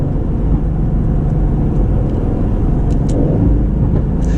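A 2020 Aston Martin Vantage drives through town, its engine a steady low rumble heard from the cabin with road noise underneath and a few faint clicks, no talking.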